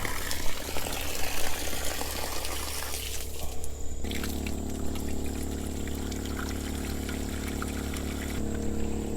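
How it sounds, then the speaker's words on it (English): Water from a hose pouring into and filling the cups of a livestock waterer, a steady rushing trickle that shifts to a lower, fuller tone partway through, continuous and close. "you should be able to see the cups filling up with water"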